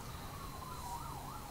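A siren wails outside, its pitch sweeping up and down in a steady rise-and-fall pattern, moderately faint and continuous above low background rumble with no one talking.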